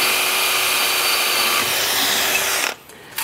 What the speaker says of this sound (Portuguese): Então eu tô usando uma broca de 10.